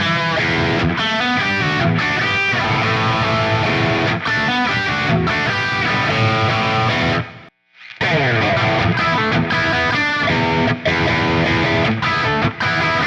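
A Gibson electric guitar played through its bridge P90 pickup with slight distortion, loud chunky bluesy riffs and chords, a brief pause midway, then playing resumes.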